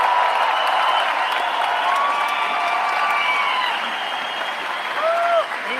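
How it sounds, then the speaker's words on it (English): Sustained applause and cheering from a large political rally crowd honoring a Canadian Navy veteran of the Second World War and D-Day, a dense steady roar of clapping with a few whistles and shouts near the end. "A round of applause."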